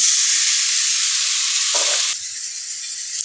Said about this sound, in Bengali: আদা রসুন পেস্ট ভাজা হয়ে গেছে, এখন দিয়ে দেবো একটু পানি,